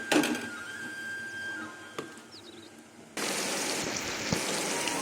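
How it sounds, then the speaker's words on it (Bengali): Heavy rain comes on abruptly partway through, a dense, loud, even roar of falling water after a quieter stretch with faint scattered sounds. "বৃষ্টি করছে বন্ধুরা বেশি"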